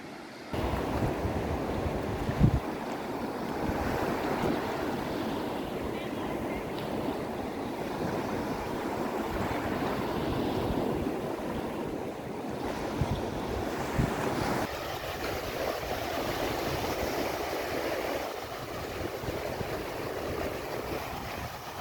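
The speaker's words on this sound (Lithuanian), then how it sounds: "Kai bangos mušasi viena į kitą" Waves roll and crash continuously along a seashore, mixed with gusty wind buffeting the microphone; a steady, fairly loud surf wash with no voices.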